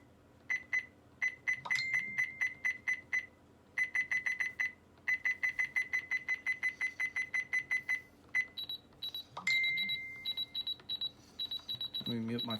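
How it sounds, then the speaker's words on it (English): Short electronic beeps from a RadioShack 12-258 radio's buttons, pressed in quick bursts and runs, with a few higher, longer tones marking invalid and valid presses, all close and clear. "So, the button beeps."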